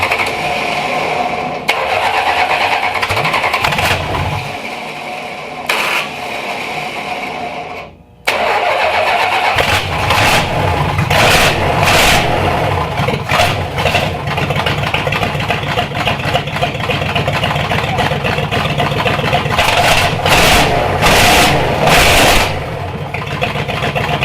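A Mopar V8 swapped into a Datsun cranks over, stops, then cranks again and fires up, settling into a loud, rough, steady idle up close with no talk.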